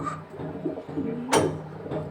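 A male racing homing pigeon gives low, throaty coos close by, a soft rolling call with a brief louder flutter near the end.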